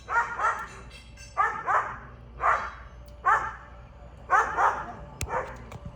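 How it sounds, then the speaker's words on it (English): Dogs barking repeatedly in doubled bursts, somewhat distant, with steady background hum and no voices. "dogs are part of nature, and they bark"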